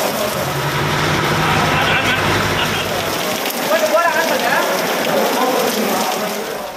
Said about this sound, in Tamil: அதன் சுற்றுவட்டார பகுதிகளில் இடியுடன் கூடிய கனமழை பெய்தது